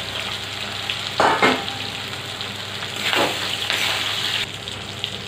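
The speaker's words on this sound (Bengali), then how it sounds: "আদা বাটা, ভেজে নেওয়া আলু দিয়ে দিচ্ছি" Fried potatoes and ginger paste sizzle steadily in a pan for a banana flower gravy, with a couple of louder hissing bursts and scraping stirs as the ingredients go in; no one speaks.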